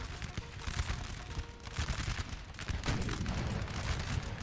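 French guns firing in a Napoleon: Total War 4v4 battle replay, a faint, dense rolling crackle of musket and cannon volleys spread across the field, with muffled distant booms and a voice talking over it.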